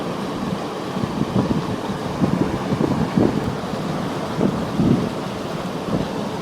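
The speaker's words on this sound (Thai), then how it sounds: "ลมฝนกับมาแล้วจ้ะ" Steady rushing wind and rain noise with low rumbling gusts that swell now and then, a continuous stormy roar with no voices.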